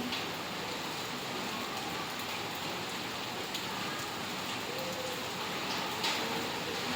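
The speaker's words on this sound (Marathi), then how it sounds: "तर एवढा पाऊस होता जोराचा आणि आमचे कपडे मस्त असे पावसात भिजत होते" Heavy rain pouring down, a dense, even wash of droplets drumming on surfaces, steady and unbroken for the whole stretch with no voices.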